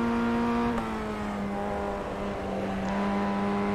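A Formula Ford 1600 race car in iRacing drones steadily at high revs, its engine tone holding close and loud with slight pitch dips, with no talk.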